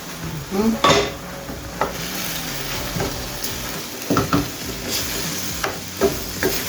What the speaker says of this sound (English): now put the chickpeas